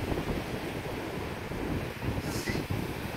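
Rough sea surging against rocks near a volcanic island shore in St. Vincent, a dense wash of churning surf mixed with gusting wind buffeting the microphone, fairly faint and steady.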